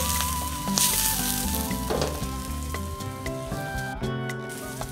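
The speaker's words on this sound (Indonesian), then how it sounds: "Kita tumis bawang-bawangannya dulu ya." Onions, shallots and chilies sautéing in a pan for green-chili teppan noodles sizzle loudly and steadily, with stirring scrapes and a tonal hum running underneath.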